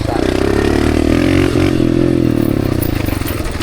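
A dirt bike engine out in the desert revs loud and close, a continuous throaty roar with buzzing, rattling harmonics that dips briefly and then keeps going.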